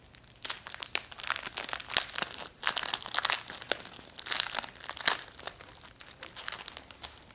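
Crinkly plastic packaging of gold scrapbooking sticker sheets is opened, giving a run of sharp crackles and rustles in irregular bursts, close and fairly quiet, with no talking.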